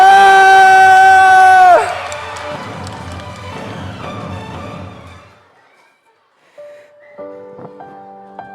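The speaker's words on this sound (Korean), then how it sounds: "여러분 승리의 함성을 외치십시오" A group of children in a church play about David and Goliath lets out a loud, sustained victory shout in unison. It lasts under two seconds, then breaks into scattered crowd noise that fades to near silence, followed by a brief musical tone.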